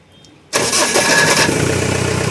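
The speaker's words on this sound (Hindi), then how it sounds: "ये देखिए गाड़ी स्टार्ट हो गया।" After a quiet pause, a Mahindra Bolero pickup's diesel engine, one with a starting problem, fires up suddenly and settles into a loud, steady, rhythmically knocking idle close by.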